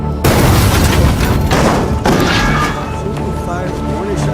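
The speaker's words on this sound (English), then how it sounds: "American soldiers, who just arrived in town, shot her with tank shells, sending her flying from the explosion to her death." Tank shells explode in a war film scene: a heavy boom hits, then a dense rumbling roar of blasts and debris rolls on, with further thuds and a fading tail of crackling noise.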